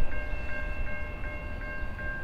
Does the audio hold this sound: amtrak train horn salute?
yes